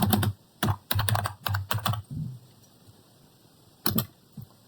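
Computer keyboard keys clack as a networking command is typed: quick bursts of close, crisp keystrokes, a pause of near silence, then a final short flurry.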